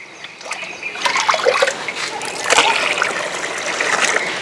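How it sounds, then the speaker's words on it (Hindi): Water is poured into a phenyl compound in a mixing container during homemade phenyl making, a continuous close splashing and trickling pour that swells in the middle and stays fairly loud throughout. "सबसे पहले कंपाउंड में क्या मिलाएंगे? पानी मिलाएंगे।"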